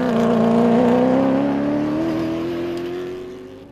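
A BMW rally car sweeps past on a rally stage, its engine loud and close at first with a rising then falling tone, then fading steadily into the distance.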